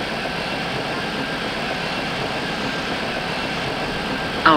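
A Berlin subway train of the H97 series, running in the MSTS train simulator game, gives off a steady, even rumble and hum of motion at constant loudness, with a sudden short knock at the very end.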